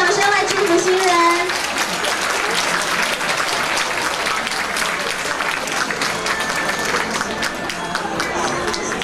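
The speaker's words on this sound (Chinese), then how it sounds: "各位嘉宾，我们是不是再次献个甜蜜的掌声来祝福新人？" Guests applaud at a wedding banquet in the Grand Hotel Taipei, with loud, sustained clapping from a large crowd throughout. A host's voice and a few other voices can be heard over it.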